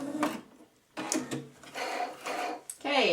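A sewing machine stitching the side seam of a purse dust bag, close whirring bursts of stitching in short runs separated by brief pauses, with a faint squeak near the end.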